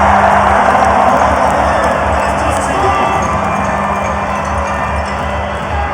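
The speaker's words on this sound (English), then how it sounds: "listen to this noise. The stadium has erupted" A packed rugby sevens stadium crowd roars and cheers after Hong Kong China scores a try, a loud, sustained wall of noise that slowly eases.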